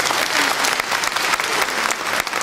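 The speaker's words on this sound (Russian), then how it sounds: "Аплодисменты" Steady applause from an audience at a medal award ceremony at the Chanson Museum, dense and continuous throughout, fairly loud and close.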